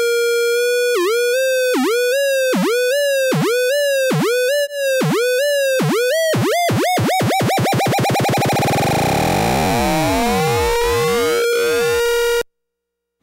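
A Dewanatron Novitiate oscillator tone, its pitch swept by a sine-wave modulation oscillator: loud, close electronic whoops that repeat in a steady wobble, then speed up into a dense, buzzing tangle of sidebands before cutting off.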